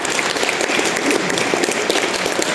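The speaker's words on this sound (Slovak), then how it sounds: "Veľký potlesk pre Medzany" An audience claps after a student team's project presentation at the FLL national final in Žilina: a brief burst of dense, even applause with no pause.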